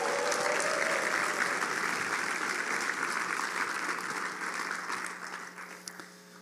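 Loud audience applause with scattered cheers fills a meeting hall after a closing talk, steady dense clapping that slowly thins and fades toward the end, with no speech over it.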